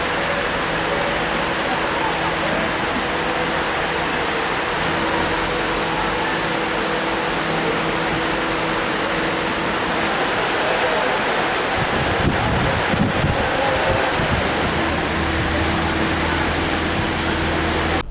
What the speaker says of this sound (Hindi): जब बारिश ने शहर में इतनी जोरदार तरीके से दस्तक दी।